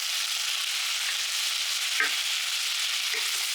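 Beef pieces browning in a hot pan for carbonade flamande give a steady, close sizzle and hiss throughout, with a few faint scrapes near the middle.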